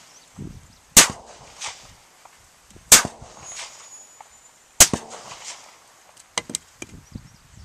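Rifle shots from a 5.45x39mm rifle fired at 100 yards into two stacked 4x4 wooden posts: three sharp, loud cracks spaced about two seconds apart, with smaller knocks and clatter between them.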